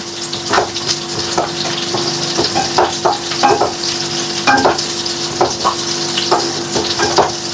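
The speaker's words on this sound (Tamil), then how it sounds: "இதெல்லாம் இப்போ நம்ம வந்து கிளறிக்கலாம்." Stirring chicken curry with potatoes in a sizzling pan, with repeated scraping strokes of a utensil over a steady frying hiss, fairly close.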